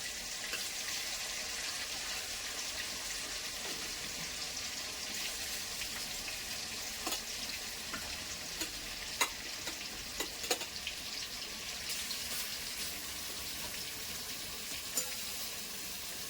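Chicken pieces for a home-style chicken curry deep-frying in hot oil, a steady close sizzle and crackle running throughout with occasional sharper pops and spits, no voices.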